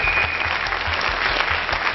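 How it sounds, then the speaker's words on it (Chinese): A studio audience at a Taiwanese TV talent show breaks into a dense, sustained wash of applause after a magic trick, steady and unbroken throughout. "这个时候应该有如雷的掌声才对。"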